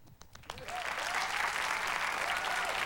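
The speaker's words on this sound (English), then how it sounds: "a bit of a blues frenzy, but a bit of an applause frenzy" Studio audience on a late-1980s television music show breaks into applause that swells after a few scattered claps into a steady, dense, enthusiastic ovation.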